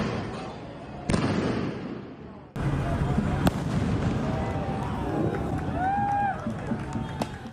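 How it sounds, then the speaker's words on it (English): Bangs and crackling bursts of fireworks go off during a street riot in Los Angeles, a sharp loud report near the start and more pops over a dense roar of crowd noise, shouting and voices throughout. "the use of fireworks to target police and even police horses is extremely dangerous"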